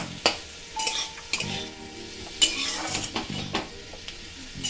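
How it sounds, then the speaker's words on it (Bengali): Whole fennel seeds stirred into capsicum and onions frying in butter for chicken patiala: a steady sizzle broken by repeated spoon scrapes and clinks against the pan. "এবার এর মধ্যে দিয়ে দিচ্ছি গোটা মৌরি দিয়ে একটু নেড়ে ফেলে নেব"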